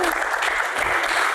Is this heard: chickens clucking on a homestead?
no